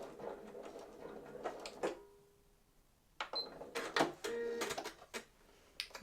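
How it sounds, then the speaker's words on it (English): Sewing machine back stitching on a hanging storage pocket project, short bursts of quick mechanical stitching separated by pauses, quiet and close. "I'm going to back stitch back down"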